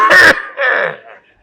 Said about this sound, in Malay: Buat batuk sikit.